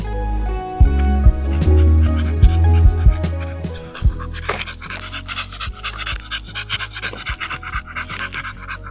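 A dog walking in the hills pants close to the microphone in rapid, steady breaths, loud and continuous, with faint scratching and rustling as it moves.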